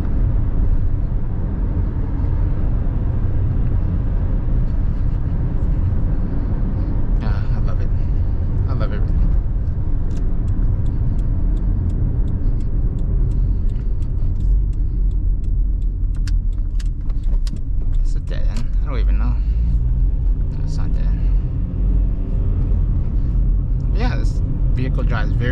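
A 2006 Honda CR-V with a five-speed manual transmission drives along a road, its steady engine and road rumble continuous throughout, with someone talking over it and occasional light rattles.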